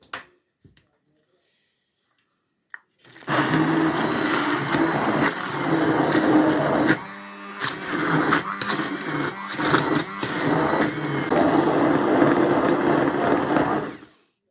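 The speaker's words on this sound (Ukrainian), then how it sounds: "І оце все буду збивати блендером." After a few quiet seconds, a blender whirs loudly and steadily for about ten seconds, its pitch shifting briefly midway before stopping.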